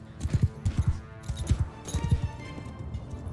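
Horses galloping in Mount & Blade 2: Bannerlord, a run of rhythmic, fairly loud hoofbeats in clustered bursts that thin toward the end, with a faint voice in the background.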